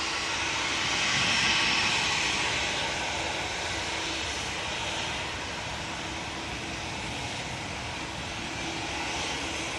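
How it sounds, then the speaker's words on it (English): A Ryanair Boeing 737-800 jet departs from Manchester Airport during Storm Floris, its engines a steady, fairly distant broadband roar mixed with wind that swells slightly early on and holds for the full stretch, with no voices. "It's a Ryanair 737-800, and this will be off to Derry"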